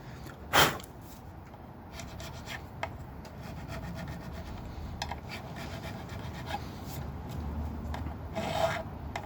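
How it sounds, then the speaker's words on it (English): A flat file drawn over the frets of a Les Paul guitar build to take off burrs, giving soft, close rasping strokes with a sharp knock near the start and no talking. "go over it with a flat just to get any burrs off"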